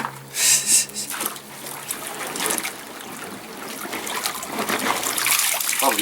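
Water trickles and drips from a scoop of freshly rinsed wood mulch lifted out of a bucket outdoors, a close splash at first settling into steady, light dribbling and pattering.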